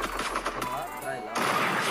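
Gunfire from an AWM sniper rifle in the video game Free Fire, with dense repeated shot bursts and a louder blast near the end, mixed under game noise.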